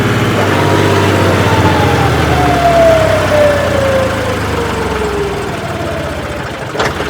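John Deere turbo tractor engine running steadily at about 2000 RPM in B1 gear, a loud continuous drone with a long falling whine across the middle, heard alone without talk.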